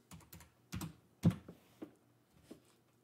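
Typing on a computer keyboard, a handful of quiet close key clicks and taps in an uneven rhythm, with short pauses between keystrokes.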